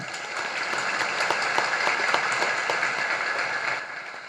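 An audience at a Jain religious discourse breaks into sustained applause, a dense, steady clapping that swells and then fades slightly near the end.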